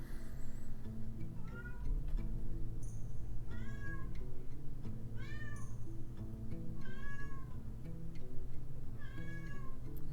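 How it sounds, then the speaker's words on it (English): A house cat meows over and over, loud and insistent, with long rising and falling cries over a steady bed of game music. "My cat's going fucking insane."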